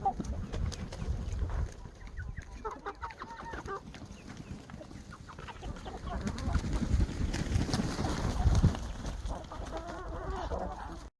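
Laying hens in a Ukrainian village poultry yard cluck and murmur continuously, several birds close by with intermittent louder squawks over a low background rumble, no voices heard.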